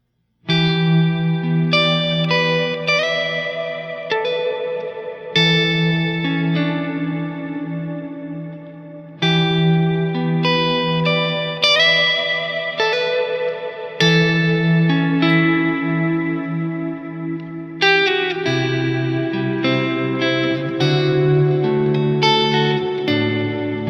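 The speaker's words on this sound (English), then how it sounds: "So let's hear the Wet Stereo Reverb." Guitar played through a Wet Stereo Reverb pedal gives sustained chords and melodic notes with a lush, wet reverb tail that swells and rings on throughout, with no talking.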